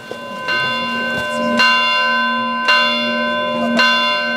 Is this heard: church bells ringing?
yes